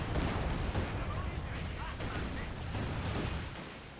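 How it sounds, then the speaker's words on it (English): Mortar and artillery fire in the real-time strategy game Company of Heroes 2, a dense barrage of booming impacts and gunfire under a speaking voice. "mortar fire there on the centre on the machine gun behind it here"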